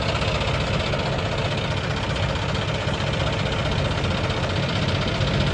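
A tractor engine idles close by with a steady, loud mechanical chug and vibration that holds constant from start to finish.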